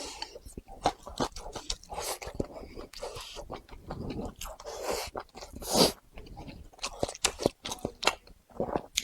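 Close chewing of soft Hunan Youxian dried tofu, with wet, squishy bites and mouth sounds in an irregular rhythm, loud and intimate, with occasional quiet breaths between.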